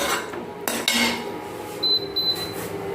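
Spoons clink and scrape against dishes as cooked tomato paneer curry is ladled into plates in a home kitchen, with a few sharp metallic knocks and ringing taps.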